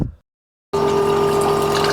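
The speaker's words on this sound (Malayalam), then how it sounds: "ചായക്കുള്ള വെള്ളം വെക്കുവാണ്" Water rushes from a tap into a pot being filled for tea, a steady close gush that starts abruptly after a brief pause and runs on evenly, with no talking.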